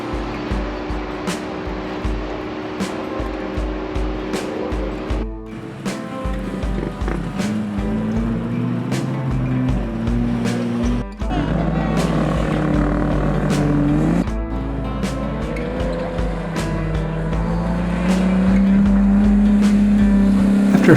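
Off-road vehicles ride the sand trails of Oceano Dunes at Pismo Beach, California, with engines droning steadily and shifting in pitch, the revs climbing louder toward the end; no one speaks.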